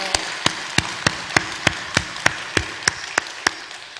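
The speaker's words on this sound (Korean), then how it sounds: "우리 하나님께 영광의 박수 같이 돌리겠습니다" Rhythmic unison clapping by a church congregation during a Sunday evening service, about a dozen evenly spaced, sharp claps at a steady beat, fairly loud with no talking over them.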